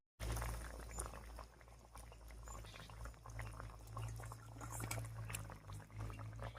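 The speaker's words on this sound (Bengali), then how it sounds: "এবারে ভেজে রাখা মাছগুলো দেবো" Fried snakehead fish pieces drop into simmering gravy in a pan, giving a close, steady sizzle and bubbling with light splashes and a pan hum underneath; there is no talking.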